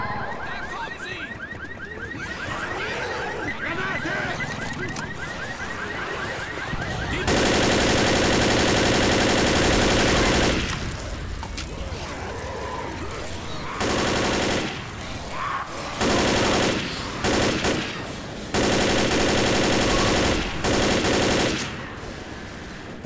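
Heavy automatic gunfire in Left 4 Dead, long loud bursts of rapid shots alternating with short pauses and quieter stretches of game noise, with a faint rapid alarm-like chatter early on.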